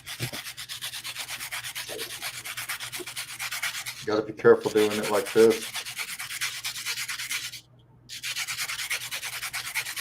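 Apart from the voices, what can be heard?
sanding a circuit board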